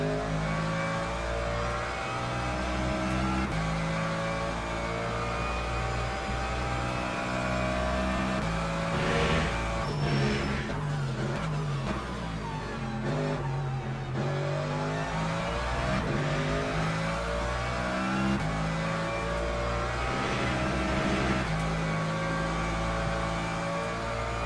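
Race cars, including a Ferrari hypercar, in the Le Mans Ultimate racing game at Circuit of the Americas, a steady loud engine drone with shifting revs and passing cars throughout, no talking.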